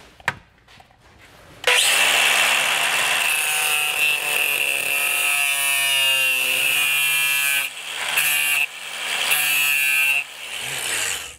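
Cutting off part of a plastic clip during a trailer hitch installation on a 2022 Hyundai Palisade: a loud, close, continuous grinding whine from a power tool, dipping briefly a few times.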